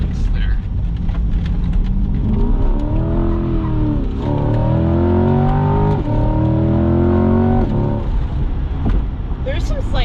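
A 2021 Chevrolet Corvette Z51 accelerates at full throttle, its engine note climbing steadily through the gears with a rising harmonic whine, loud and continuous, heard from inside the car with people talking over it.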